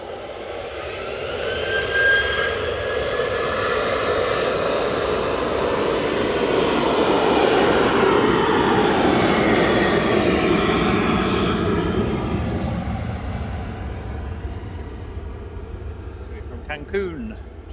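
An airliner touches down on the runway at Manchester Airport, its broad engine roar swelling to a loud peak mid-clip then slowly easing as it rolls out, with voices talking over it.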